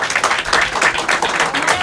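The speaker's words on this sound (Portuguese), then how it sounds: "aplauda-se para Jesus" A church congregation applauds during a sermon, a dense wash of many hands clapping at once, continuous and moderately loud with a voice faintly mixed in.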